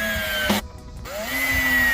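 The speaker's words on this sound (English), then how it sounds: "I had to actually crank up my drill to 2 and sometimes 3 to get these to sit flush." A power drill drives screws into a VEVOR wooden foldable sandbox bench. A loud whirring burst cuts off briefly, then the motor whines up again and runs steadily.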